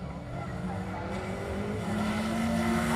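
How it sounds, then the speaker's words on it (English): Mazda MX-5 rally cars on a circuit stage, engines rising in pitch as they pass at a distance, with a steady build in loudness over a few seconds, under a commentator's voice. "Charlie Stevens in the Mazda MX-5. They've just made their way through."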